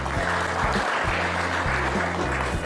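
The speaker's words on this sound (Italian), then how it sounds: "un applauso a Patrizia che ha fatto tutta la parte." Guests at a civil wedding ceremony in a town hall applaud, a continuous, moderately loud wash of clapping over a low, sustained tonal hum in the background.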